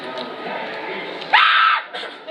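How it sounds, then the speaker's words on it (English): A single person screams on a Disneyland Paris ride, one loud sharp shriek lasting about half a second, rising out of background chatter and crowd noise. "Ooh, good scream!"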